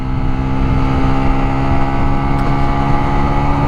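Steady, loud engine drone of a Lexmoto LXR 125 motorcycle held at top speed in sixth gear, with constant wind rush over the whole stretch and no talking.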